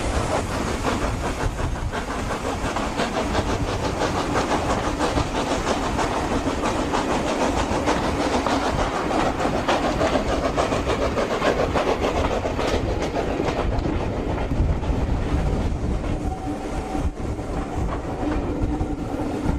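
Continuous loud rumble and rhythmic clatter of a train locomotive running on rails, heard from on board over a long stretch with a steady hiss and no talk.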